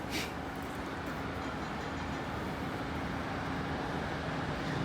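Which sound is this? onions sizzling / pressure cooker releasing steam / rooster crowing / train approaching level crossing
train approaching level crossing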